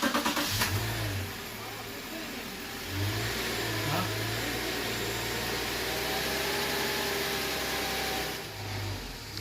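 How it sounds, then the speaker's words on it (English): Subaru Outback 3.6R six-cylinder engine turning over and settling into a steady idle after a spark plug change, a continuous close low hum with a slight rev swell near the start and another near the end. "Give it a crank to see if it starts."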